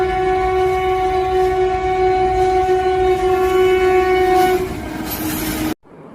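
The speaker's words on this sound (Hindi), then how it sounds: "हमारी ट्रेन आ गई है" A train sounds a long, loud, steady horn blast as it arrives at a station, with the rumble of the railcars beneath it; the horn fades out and the sound cuts off near the end.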